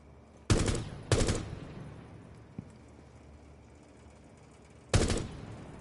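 Gunfire at a partially hidden target in Rainbow Six Siege: three sharp, loud shots, two close together early and a third after a long quiet gap, each with a short decaying tail.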